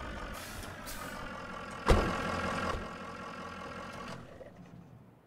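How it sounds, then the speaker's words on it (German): A truck in the Snow Plow video game idles steadily after being parked, a mid-pitched engine hum with a sharp hiss of air brakes partway through, then the rumble fades out. "Und ich park diesen Truck jetzt einfach mal hier."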